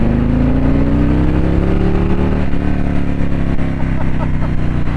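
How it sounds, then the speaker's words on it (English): A Harley-Davidson Street Glide motorcycle engine revs up close and loud, its deep rumble rising in pitch as the throttle opens, continuous throughout with a brief dip midway. "Have I mentioned yet today how much I love hearing this bike rev up?"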